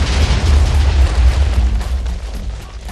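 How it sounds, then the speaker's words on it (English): Loud, continuous explosive booms from exploding meat in a Minecraft meat mod, a heavy rumbling roar with dense low-end bursts throughout. "who doesn't like some exploding meat?"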